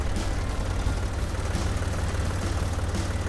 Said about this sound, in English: you got a tractor that's running around